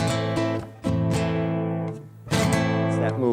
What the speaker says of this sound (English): a Rasqueado is something that's really synonymous with flamenco music